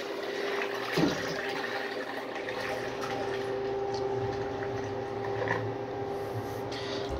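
A miniature 1983 Norris wall-hung toilet is flushed with soap in the water, giving a steady close rush and gurgle of flowing water that holds for several seconds with a brief bump near the start.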